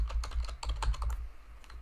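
Fast, uneven tapping of keys on a computer keyboard, a quick burst of close clicks with brief pauses and no talking.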